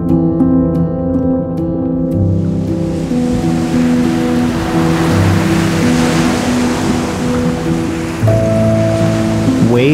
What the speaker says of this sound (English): Waves are the voices of tides.